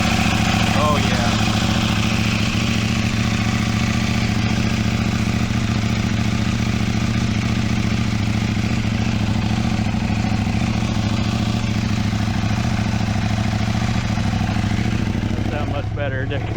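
A 2025 Husqvarna Svartpilen 801 motorcycle with an Ixil slip-on exhaust idles steadily, a deep even rumble held close and loud for the whole stretch, ending with a brief blip.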